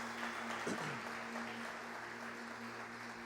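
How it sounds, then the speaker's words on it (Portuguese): Soft applause from a church congregation, faint and steady, with a low hum running underneath and a brief voice near the start. "Vamos aplaudir a Deus."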